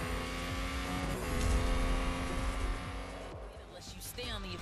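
Racing car engines roar and rev in the mobile game Real Racing 3, a sustained loud engine drone that swells, then drops away as gear shifts and tire squeal sounds come through, with speech audible over it.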